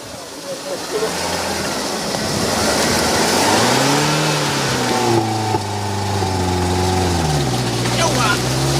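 A car's engine revs and accelerates up close as it drives on, rising and falling in pitch, with people talking over the engine noise.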